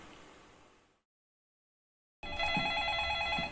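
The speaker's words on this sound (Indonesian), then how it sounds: "Dan telepon kembali berdering." Telephone bell ringing in a film thriller, a muffled scene fading to silence before a sharp, loud electronic ring bursts in and keeps trilling steadily.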